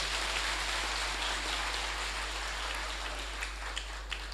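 Crowd applause at a CCM-opposing party rally, a steady wash of many hands clapping that holds evenly throughout, moderately loud and with no voices above it.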